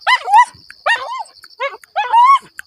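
A happy dog whimpers and yips in excited greeting, several close, high, wavering cries in short bursts with brief pauses, loud and alone.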